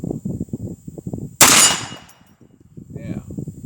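A single loud .44 Magnum shot from a gas-operated Ruger Deer Slayer rifle at an outdoor fan shoot, striking a steel tank plate with a sharp crack and ringing decay, set between stretches of nearby talk.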